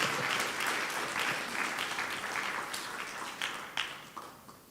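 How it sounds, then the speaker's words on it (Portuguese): An audience at a community gathering gives a round of applause, a continuous wash of clapping at moderate volume that gradually thins, with a few sharper individual claps standing out near the end. "Um aplauso."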